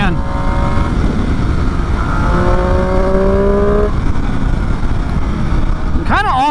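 A Triumph Speed Triple motorcycle pulls hard from low revs, its engine note rising steadily and loud over a constant rush of wind. Rising tones climb through several gears, and a rider's voice joins in near the end.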